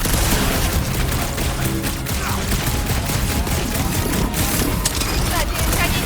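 Rapid gunfire crackles in a dense, continuous barrage during a Marvel's Guardians of the Galaxy battle, with sharp shots cutting through constant combat noise while characters talk over it.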